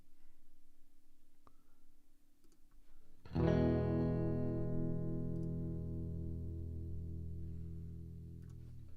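A guitar chord rings out through an amplifier and Fractal Dynacab with reverb, sustaining with a long, slowly fading reverberant tail after a quiet hum.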